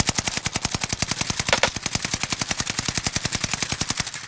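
A KG-M40 rifle fires in Warzone, a loud, steady rapid burst of shots at an even fast rhythm lasting several seconds.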